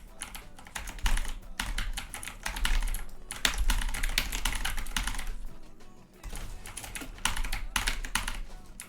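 Continuous rapid typing on a computer keyboard during a Fortnite Winter Royale practice session, dense clattering keystrokes with brief pauses, close and fairly loud, no talking.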